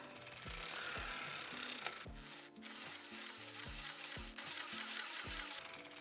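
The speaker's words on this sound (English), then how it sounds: "And now I'm going to crank 18 rows." Circular sock knitting machine being hand-cranked through a run of rows, giving a steady close mechanical clatter of ratcheting needles with a hissing, sizzle-like wash, briefly pausing twice before continuing.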